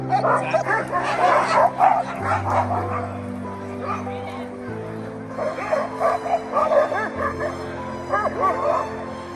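Sled dogs in the Alaskan backcountry bark, yip and whimper in quick, excited bursts, loud and close, over a low steady hum.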